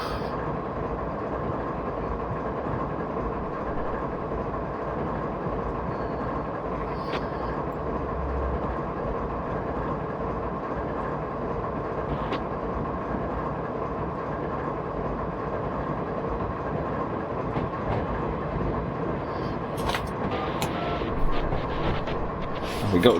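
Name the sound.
long BNSF freight train with ES44DC locomotive, Train Simulator 2018 video game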